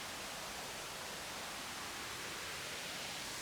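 Behringer BM13 and Moogerfooger MF103 phaser pedals sweep a steady hiss-like noise source at a raised LFO rate, giving a continuous, moderately quiet whooshing wash with no talk.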